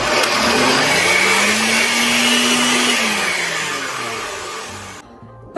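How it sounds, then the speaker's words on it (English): A kitchen blender purees black olives, parsley and olive oil with a loud, steady whirring motor that rises in pitch, holds, then winds down and stops abruptly. "Let's see if my blender can handle this."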